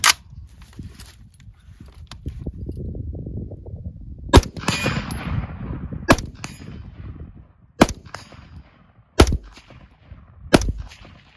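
An M16A1 rifle fitted with a Dissipator barrel fires single shots at a steel plate on a range, five sharp reports spaced a second or two apart, some followed by a ringing metallic clang, with rustling in between.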